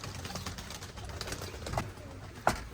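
Taklacı tumbler pigeons in a loft with young birds give soft, low cooing amid quiet background shuffling, with a sharper flutter or knock near the end, no speech.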